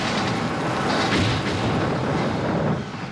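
Continuous heavy rumbling roar with dense booming bursts, loud and sustained like a battlefield barrage, no voices; war-scenario explosion effects played through loud stereo speakers.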